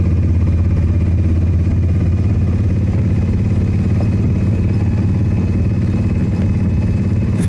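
A small vehicle engine on a Disneyland Paris ride hums and rumbles steadily and loudly up close, holding an even, continuous drone with no clear rise in pitch and no voices.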